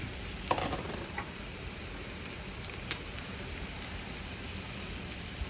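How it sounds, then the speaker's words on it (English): Diced onion sautés in a small skillet, giving a steady, close hiss and crackle throughout, with a couple of faint utensil taps early on. "now I'm gonna go ahead and saute some diced onion that I had prepared. Throw those in this little skillet."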